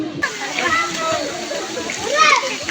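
Water splashes and sloshes around nearby as people bathe and swim in fresh water, while children's voices chatter and call out over it.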